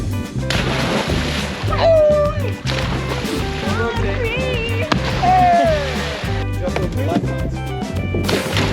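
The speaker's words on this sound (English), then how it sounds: "stop the boat and take a dip in the water to cool off" Swimmers leap off a stopped sailing boat on an ocean passage and splash into open water, with bursts of sloshing and thwacks over steady engine-like hum, while excited voices shout and cheer throughout.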